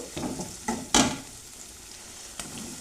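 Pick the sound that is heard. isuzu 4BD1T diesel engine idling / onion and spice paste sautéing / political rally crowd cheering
onion and spice paste sautéing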